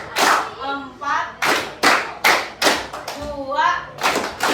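Several sharp group hand claps follow a counted classroom rhythm game, about eight close, loud bursts interleaved with voices counting aloud.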